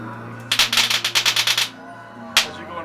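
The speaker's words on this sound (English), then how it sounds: "In here to show you the electrical short." An electrical short effect in a haunted house attraction fires a rapid burst of about a dozen loud crackling zaps over a steady low electrical hum, falls silent, then lets out one more sharp crack.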